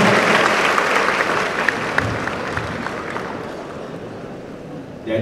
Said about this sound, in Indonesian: Terima kasih, tepuk tangan kita semuanya.